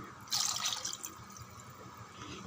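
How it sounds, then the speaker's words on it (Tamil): Water splashes and pours into a cooking pot of mutton curry for about a second, then trickles and drips softly against a quiet background. "இன்னும் 1 டம்ளர் தண்ணி விட்டுடலாம்."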